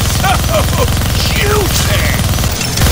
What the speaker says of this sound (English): Gonna need both hands to shoot that minigun.